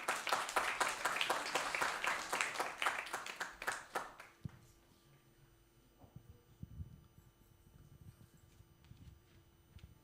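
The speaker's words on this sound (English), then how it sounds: "Can we have a round of applause for him?" At a community celebration, an audience claps in a dense, loud burst of applause lasting about four seconds, then fades to scattered claps and quiet room noise.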